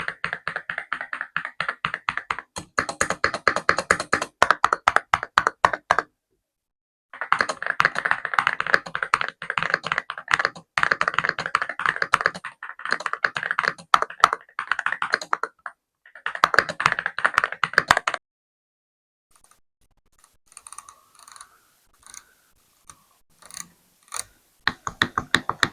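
Typing bursts on a YUNZII X98 transparent mechanical keyboard with polycarbonate keycaps give a deep, muted thock, steady and close, with short pauses and sparse lighter taps near the end; no talking.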